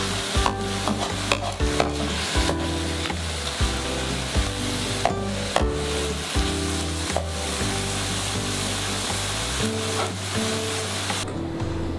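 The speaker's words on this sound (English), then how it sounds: "we're going to stir it in with the mushroom and tofu mixture" Sauce being stirred into a mushroom and tofu mixture in a pan for oil-free dan dan noodles, steady scraping and soft sizzle running throughout, fairly close, with a bed of musical tones underneath and no talking.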